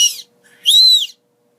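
A bird whistle held on the tongue gives two shrill, warbling chirps, a short one and then a longer, louder one, close up with no talk.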